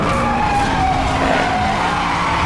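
Tires screech in a sustained skid as a car drifts in Need For Speed Hot Pursuit Remastered on PS5, the loud squeal running steadily over a roaring engine for the whole stretch.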